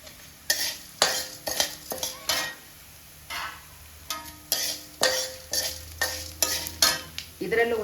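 Tamarind, cumin and curry leaves being dry-heated and stirred in a pan for curry leaf chutney powder, heard as close, rhythmic scraping strokes of a spoon against the pan in repeated bursts, with a faint sizzle between them.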